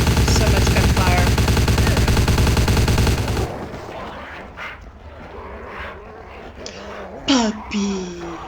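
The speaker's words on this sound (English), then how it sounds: "So much gunfire." Rapid, dense gunfire in Vampire: The Masquerade – Bloodlines rattles loudly for a few seconds, then cuts off, leaving scattered game effects and occasional talk.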